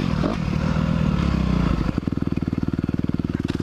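A 2021 Honda CRF 250R dirt bike being ridden in a field, its engine droning loud and close, then settling into a rapid, even thumping pulse.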